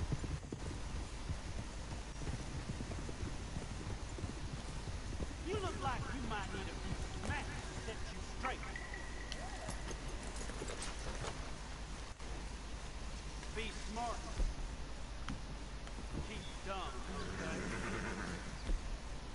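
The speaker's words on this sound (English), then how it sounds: "Goblin horse?" Hooves of a goblin horse in a video game clip-clop in irregular runs under a continuous game ambience, while a voice talks intermittently over the top.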